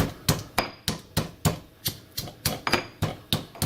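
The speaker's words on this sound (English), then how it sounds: "I am going to finely grind 3 cloves of garlic and half a Scotch bonnet pepper into a fine paste" Garlic cloves and half a Scotch bonnet pepper pounded into a paste in a mortar: a steady run of about a dozen sharp, close thumps at a brisk, even pace, with no voices.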